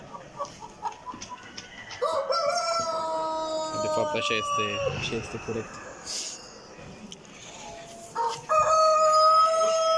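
Two roosters crow at a national poultry exhibition hall, loud drawn-out calls rising over crowd murmur, with someone talking nearby and other birds clucking in the background.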